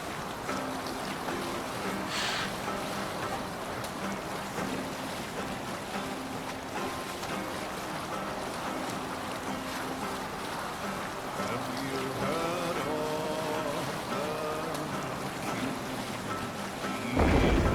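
A Viking longship sails the open sea in Assassin's Creed Valhalla, with a steady wash of waves and wind rushing continuously around the hull and voices heard faintly now and then.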